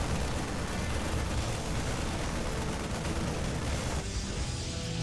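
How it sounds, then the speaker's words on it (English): A gateway building explodes in StarCraft II amid dense, continuous battle noise: a loud, sustained roar of blasts and rumbling that thins out near the end, with no speech. "And there is the gateway explosion"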